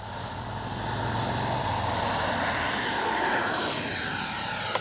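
A Flyfans Baltic Bees RC jet turbine with afterburner spools up loud and near, a rising whine that climbs in pitch over a steady roaring rush and holds at a high, piercing tone, with no talk.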